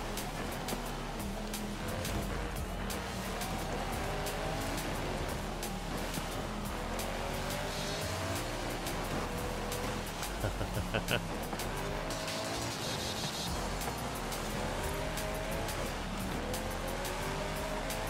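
Racing cars in Forza Horizon 5 roar continuously with engine drone and passing whooshes, loud and dense throughout, mixed with a voice talking over the game.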